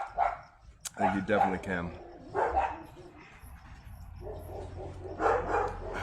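Several dogs bark intermittently near an outdoor firepit, bursts of yips and barks mixed in with someone talking nearby and a soft background hum.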